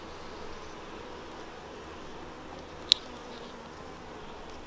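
Honey bees buzz around a honey and pollen frame lifted from a nucleus colony hive, a soft, steady hum at close range with one brief sharp tick.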